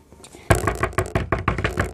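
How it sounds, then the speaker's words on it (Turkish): A series of sharp knocks on a household door: a quick rhythmic run of about five or six raps, close and loud, following a quiet moment at the start. "Kapıyı çalın bakalım. Ben çalarım."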